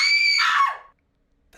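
A person lets out one loud, sustained high-pitched scream close by, about half a second long, that breaks and fades, followed by near silence and a faint noise at the end.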